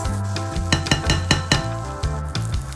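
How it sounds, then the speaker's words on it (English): Onions browning in a skillet for a sour cream and onion dip, with steady sizzling broken by several sharp scrapes and clinks of a utensil stirring against the pan, close and fairly loud, with music running underneath. "Cook until lightly browned, around 16 minutes, while stirring at 4-minute intervals."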